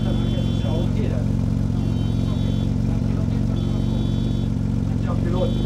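A Porsche with over 600 hp idles with a deep, steady rumble at a sound check event, loud and close, while people talk over it and a faint tone chirps intermittently.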